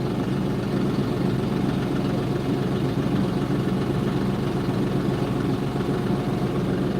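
A diesel tractor engine idling, a steady low rumble with even vibration, close and constant with no other sounds.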